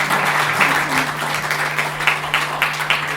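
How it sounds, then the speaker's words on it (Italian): Applause at the close of a live poetry-and-song evening, a steady wash of many hands clapping with some louder individual claps standing out near the end. "applauso grossissimo finale"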